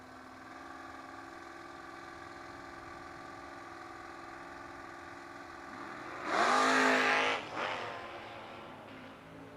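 Drag race cars at a footbrake race with low engines idling steadily, then a loud burst as cars launch and roar away before the sound drops back.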